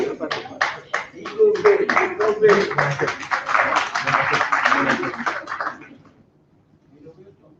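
Audience at an elective general assembly breaking into applause, a dense patter of many hands clapping close and loud for several seconds before fading out, with voices mixed in.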